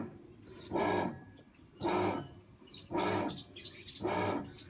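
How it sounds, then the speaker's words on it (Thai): An LG washing machine motor hums in four strained bursts, roughly one per second, each rising then cutting off, with a faint whine between them; the drum does not turn because of a broken shaft. "เสียงมอเตอร์ทำงานนะฮะ"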